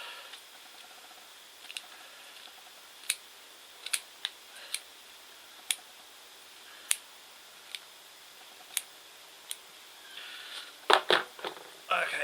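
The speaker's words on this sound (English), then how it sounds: "root scissors" Sharp snips of root scissors cutting pyracantha roots during repotting ring out one at a time at irregular intervals, crisp and close, before a brief burst of rustling at the end.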